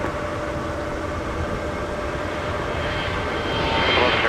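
An airplane lands on runway 12 left at Minneapolis–St. Paul Airport during a winter storm, its engines a continuous loud broadband roar that swells slightly toward the end.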